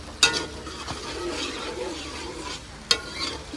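Spices roasting in a pan before potatoes go in: a steady close sizzle with stirring, broken by two sharp clanks of a utensil against the pan.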